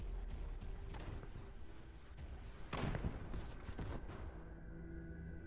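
Gunship combat in the game From The Depths, with missiles flying and APS cannon fire, comes through as a continuous rumbling fusillade of muffled shots and booms, one louder burst near the middle, under a steady hum.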